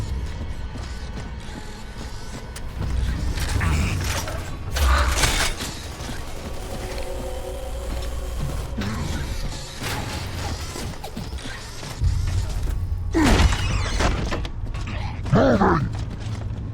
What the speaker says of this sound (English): Jack, open this door.